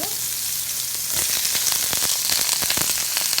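Vegetables, including broccoli and pepper, stir-fry in a hot pan for egg noodles, giving a loud continuous sizzle broken by quick stirring scrapes.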